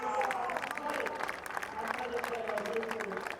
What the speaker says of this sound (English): So the Prema Power team then applauding the success